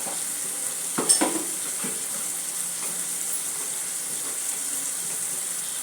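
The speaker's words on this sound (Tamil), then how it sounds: "தக்காளியும் கொஞ்சம் வதங்கட்டும். வெங்காயமும் கொஞ்சம் வதங்கிட்டு கொஞ்சம் கசூரி மேத்தி சேர்த்துடுறேன்." Tomatoes and onions sauté in a pan for a rajma curry, giving a constant soft sizzle with a brief clatter of stirring early on, close and steady with nobody speaking.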